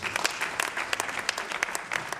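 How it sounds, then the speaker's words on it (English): Audience at an alumni lecture applauds a speaker, a dense burst of many hands clapping at close range, steady and unbroken for a couple of seconds. "Can we give him a round of applause?"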